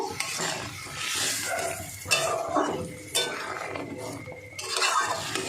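Potol and prawn curry with potatoes being stirred in a pan, a metal spoon scraping and clinking against the pan in irregular strokes, close and moderately loud, with no talk.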